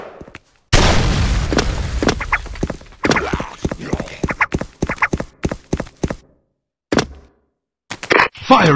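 Grenades go off in the video game SF Rush on the Dark Castle map during grenade jumping. A loud burst is followed by a rapid series of sharp, punchy thuds and clatters, separated by short gaps of silence.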